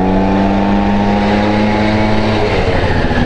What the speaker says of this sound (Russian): Как он близко проезжает, тут особо не разгонишься.